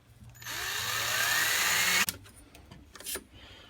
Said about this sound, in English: there's a little, just a push-in rivet here that I'm just going to drill that out.